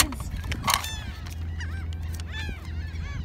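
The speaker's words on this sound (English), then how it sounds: "Now we can go have fun on the boardwalk and look at these crazy seagulls." Gulls calling near an Ocean City boardwalk, a few loud squawks and shorter cries over a low steady hum of traffic or machinery, fairly close outdoors.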